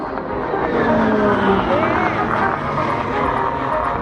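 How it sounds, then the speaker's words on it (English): A 1600-horsepower Pratt & Whitney PT6 turboprop drones loud and steady at a coastal airshow during an RAAF Roulettes aerobatic display, a continuous broad engine roar sustained throughout. "that engine you can hear is a 1600 horsepower Pratt & Whitney PT62 turboprop"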